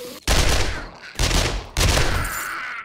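Three loud close bursts of machine gun fire from an MG in the video game 7 Days to Die, each a dense rattling volley separated by short gaps.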